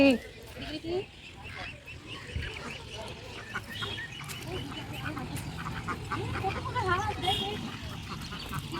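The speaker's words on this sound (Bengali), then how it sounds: "এখানে কতগুলান হাঁস বিশ্রাম করতেছে" Ducks quacking at a duck farm, scattered calls at middle distance under frequent conversational speech and outdoor background noise.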